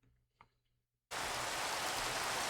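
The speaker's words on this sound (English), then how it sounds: "so it's kind of raining" Steady hiss of rain begins abruptly in a Minecraft survival world, a dense even downpour that starts after a brief faint click and continues alone without speech.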